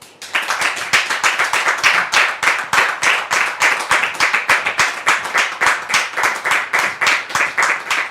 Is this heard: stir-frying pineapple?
no